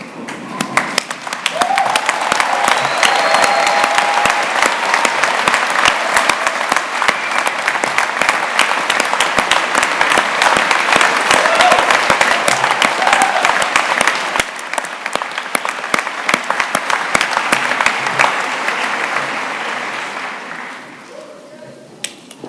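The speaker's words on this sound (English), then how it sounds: "show your appreciation to your families and friends for all their support with rapturous applause" Loud, sustained applause from a large crowd at a university graduation ceremony, dense clapping that continues steadily for about twenty seconds before tapering off near the end.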